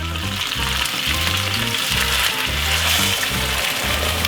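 Hot water poured onto meat frying in a pan for Ankara tava, giving a loud, close, steady sizzle with bubbling and the rhythmic scrape of stirring throughout.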